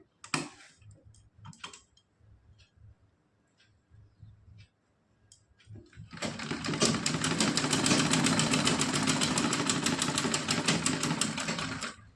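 A sewing machine runs a steady, continuous stitching pass on a net and lace dress, loud and close, after several seconds of quiet handling taps and small clicks.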